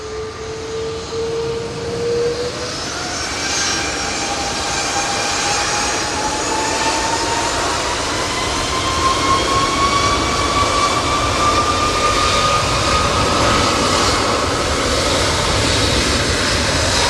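Aircraft engine at Manchester Airport during Storm Floris, likely an air tanker: a steady, loud jet roar with a rising whine that climbs in pitch through the clip, droning continuously over strong wind.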